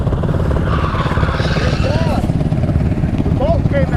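A Honda Grom mini bike's small engine drones loudly and steadily, close by, with brief voices breaking in over the motor noise.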